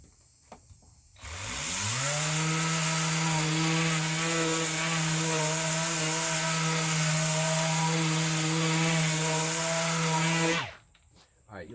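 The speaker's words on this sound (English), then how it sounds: "Now what I'm going to show you is a piece of 80 grit film on the 5-inch orbital." A 5-inch dual action orbital sander fitted with 80 grit film runs steadily on wood for about nine seconds, loud and close, with a steady motor whine and rough abrasive rasp that starts and stops cleanly.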